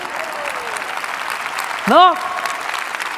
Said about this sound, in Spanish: si ustedes no aplaudían, yo iba a aplaudir